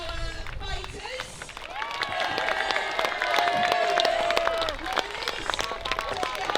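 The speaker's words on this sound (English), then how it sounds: "Can we have a massive round of applause for our fighters?" Applause and cheering from an outdoor crowd at a medieval fair at a priory, greeting costumed fighters; broad clapping noise holds steady throughout, with a voice briefly audible over it.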